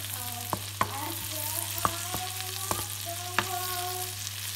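Garlic and ginger sauté in a pan for garlic butter mussels, giving a steady close sizzle broken by several sharp clicks and scrapes of stirring, with no voices.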